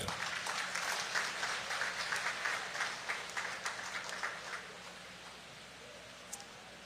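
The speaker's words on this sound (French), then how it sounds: "sous vos applaudissements" Congregation at a large annual church convention clapping to welcome a preacher, moderately distant dense applause that thins and fades over the last couple of seconds.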